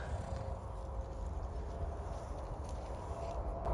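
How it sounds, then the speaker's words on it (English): Steady low rumble with faint, soft hoof thuds of a horse walking, partly buried in a continuous background noise. "He's a beautiful horse."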